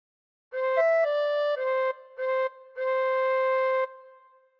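A tin whistle plays a short phrase of the hymn Be Thou My Vision, five clear sustained notes with brief gaps, close and solo without any voices.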